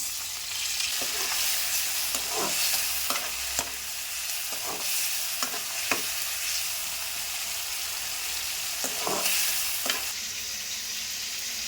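Tomato and chopped onion stirred and fried in hot oil for an eggplant curry masala: steady close sizzling throughout, broken by several sharp scraping stirs of a spoon in the pan, with no talking.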